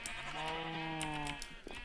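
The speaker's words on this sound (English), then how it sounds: "The goats are out!" A Minecraft goat in a zoo modpack gives one drawn-out, quavering bleat, close and clear, then a short quieter sound trails off.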